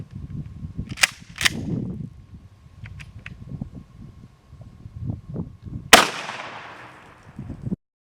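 A 12 gauge shotgun loaded with No. 6 bird shot fires outdoors toward a tree about 16 feet away. Two sharp blasts come close together early on, then quieter clicks and handling noise, then one loud report with a long fading echo.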